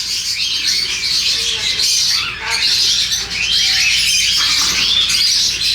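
Caged birds at a bird market in Makkah squawk and chirp continuously, a dense, busy chorus of calls throughout with no talking.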